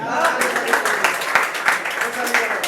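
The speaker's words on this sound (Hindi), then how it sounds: "इसके लिए जोरदार तालियां" A live audience at a stage event applauds steadily and loudly, with a voice briefly audible among the clapping.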